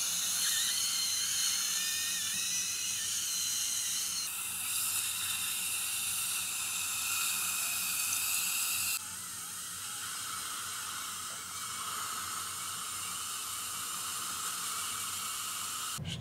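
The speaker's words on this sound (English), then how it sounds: "Polishing with a Shofu rubber wheel." A dental rotary handpiece whines steadily while a Shofu rubber wheel polishes an implant crown, a high continuous hiss that drops slightly in pitch partway through, close and alone.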